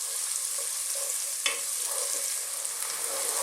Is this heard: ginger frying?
yes